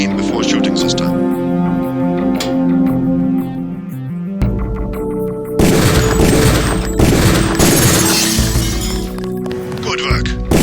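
Gunshots and shattering hits at training targets in Deus Ex, a burst of loud, dense impacts and breaking sounds over music, with a voice speaking throughout.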